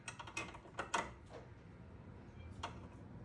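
Faint, close metallic clicks and small ticking scrapes come from threading a brake line fitting into the master cylinder of a GC8 Subaru WRX, in a few irregular bursts over a quiet background.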